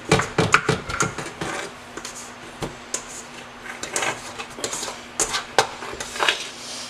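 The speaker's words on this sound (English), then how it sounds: "I'm going to turn it out and give it a little bit of a knead" Sticky bread roll dough turned out and kneaded by hand, irregular slapping and thudding knocks on the work surface with scraper clatters, close and moderately quiet, no talking.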